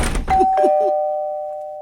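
A doorbell gives a clear two-tone ding-dong right after a brief rattle, and the second tone rings out and fades slowly.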